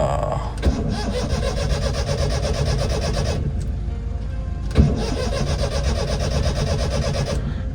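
A family car's engine cranks and catches again after stalling, running steadily at a mid pitch, with a second start-like surge partway through and a faint voice in the background.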